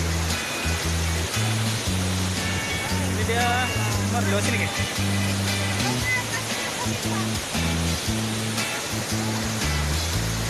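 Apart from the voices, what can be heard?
Andulan waterfall, Palopo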